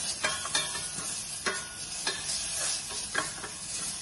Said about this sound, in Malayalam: കരിവേപ്പില, ഡ്രൈ ചില്ലി, വെളുത്തുള്ളി എല്ലാം കൂടെ അതിലേക്ക് രണ്ടോ മൂന്നോ മിനിറ്റ് നേരം വഴറ്റുക.